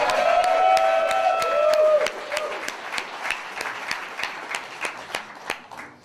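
A crowd applauds at the Mercury Cafe in Denver after a political speech, with sharp handclaps continuing steadily and a voice briefly heard at the start before the clapping thins out.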